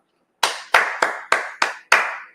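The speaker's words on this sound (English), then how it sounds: "You got to clap it up for the defense." Six sharp hand claps at a steady, slightly uneven pace, close and crisp with quick decays, alone with no talking.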